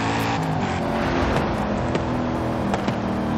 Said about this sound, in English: This thing is a flamethrower. What a stock exhaust.